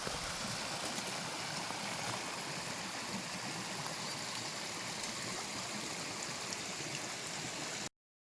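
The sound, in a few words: small stream feeding a waterfall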